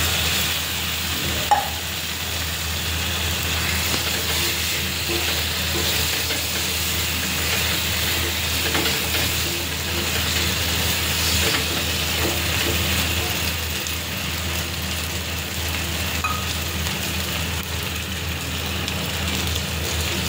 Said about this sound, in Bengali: এখন দিয়ে দেবো আলু আর পটল ভেজে রাখা।